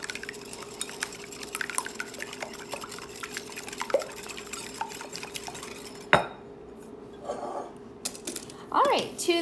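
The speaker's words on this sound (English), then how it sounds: "Get our whisk and just mix these up just like you would scrambled eggs" Eggs whisked in a bowl for lemon bars, a rapid rhythmic metal whisk clicking against the bowl with a wet slosh, steady at first, then a louder knock and a few scattered clinks toward the end.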